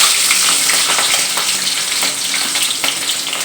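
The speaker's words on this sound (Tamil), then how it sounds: "இப்போ எண்ணெய் நல்லா காஞ்சிருச்சு கடுகுளுந்தம் பருப்பு போட்டுக்கிறோம் கடுகு நல்லா பொரிஞ்சிருச்சு" Mustard seeds and urad dal spluttering in hot oil, a loud dense crackling sizzle with scattered sharp pops, close and continuous with no talking.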